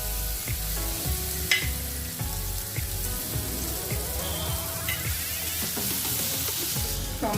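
Tomato frying in a pan with cloves, cumin and salt, giving a continuous close sizzle with scattered stirring clinks and scrapes of a utensil, no talk over it.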